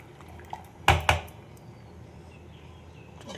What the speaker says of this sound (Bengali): এবার এই চালটা দিয়ে দিলাম